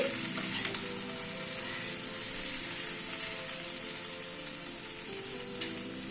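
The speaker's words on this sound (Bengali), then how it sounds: "একটু নাড়াচাড়া করে দিচ্ছি" Vegetables and half a squeezed medium lemon are stirred in a hot pan, giving a steady close sizzle of frying with a few light scraping stirs near the start and one brief clink toward the end; no talk.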